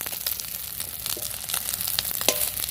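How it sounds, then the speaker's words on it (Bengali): An egg frying in a pan with green chilli, a soft continuous sizzle with crackly pops and a few sharper spatters, fairly quiet and close. "ডিম ভাজা তো এরকম ফুলে"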